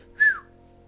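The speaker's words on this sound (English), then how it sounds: "She's making loads of whistling sounds at me." A short, bright whistle from a character in the video game For Honor, a single clear note sliding downward and fading quickly over quiet background ambience.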